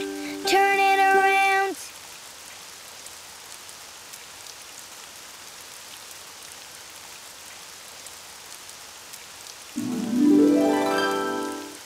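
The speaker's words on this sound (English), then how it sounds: "it's raining outside" Steady, soft rain patters continuously throughout, with brief musical tones sounding at the start and again near the end.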